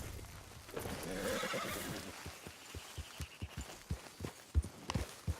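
A horse in the video game Red Dead Redemption 2 whinnies loudly, then hooves clip-clop in an even walking rhythm, close and clear with no talking.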